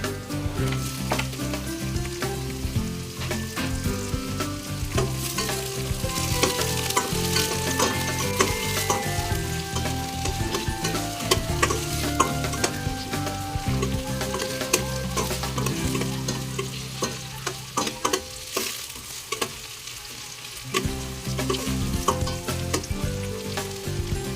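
Tomatoes sauté in a pan with ginger, garlic and onion for ginisang monggo with pork, giving a continuous loud sizzle with frequent utensil scrapes and taps as they are stirred, with no talk.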